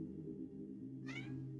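A cat lets out a single short, rising meow in the background, heard over a low steady indoor hum.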